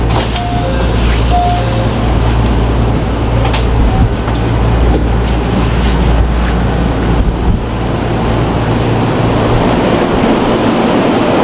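Train pulling into Gifu station in Japan, a steady loud rumble of rolling stock with low engine hum and faint squeals over continuous station ambience, no talking.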